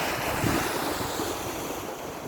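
Sea waves rolling in at Tara beach in Thailand with steady wind buffeting the microphone, a continuous loud wash of surf and gusts with no talking.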